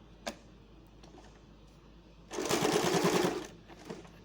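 A sewing machine stitching a French fell seam runs in a single steady burst of about a second, close and clear, framed by a few faint ticks of handling before and after, with no talking.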